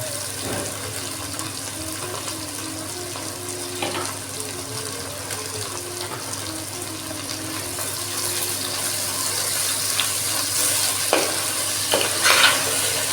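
Salted tomatoes and other ingredients sauté in a pan for a catfish curry, a continuous close sizzle with occasional stirring scrapes and clinks, no voices over it.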